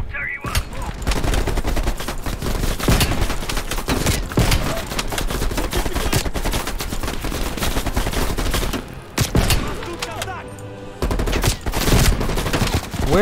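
Rapid turret gunfire in Call of Duty Cold War, loud and dense sustained bursts of automatic shots with brief pauses, heavy and continuous throughout.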